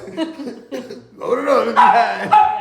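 A small pup gives a few short barks and yips, close and fairly loud, mixed with people talking nearby.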